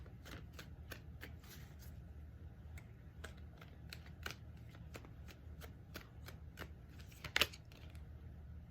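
Tarot cards are shuffled by hand in a steady series of crisp riffling clicks and flicks, quiet and close, with a few louder snaps near the end and no voice.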